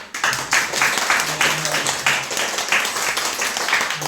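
A church congregation claps together during a worship service, a steady wash of applause with rhythmic bursts lasting throughout, fairly close and moderately loud.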